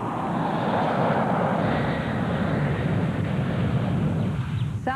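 A Hawaiian Airlines Island Shuttle airplane passes overhead in Honolulu as a loud, sustained broadband engine roar with some wind noise, steady across the span and starting to fade at the end.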